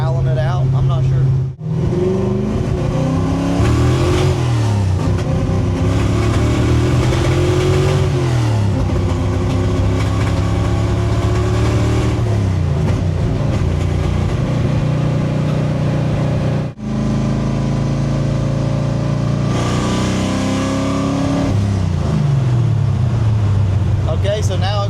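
A car engine with a fouled spark plug, now running smoothly again, hums loud and close, revving up and down in several smooth swells over a steady idle.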